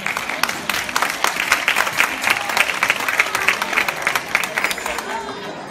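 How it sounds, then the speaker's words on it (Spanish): Dense, steady applause from a school audience after a fourth-year primary class performs Jingle Bells, many hands clapping close together at an even level throughout. "un fuerte aplauso para ellos"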